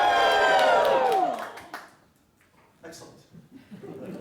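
Audience at a live improv theater show in a space-themed performance lets out a loud, sustained cheer with whoops and shouts for over a second, then fades into scattered murmurs, claps and chuckles.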